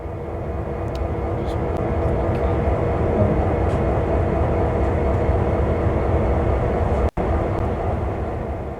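A locomotive in the Train Sim World video game, a loud, steady low engine rumble and drone running continuously, briefly cut by a sharp break near the end.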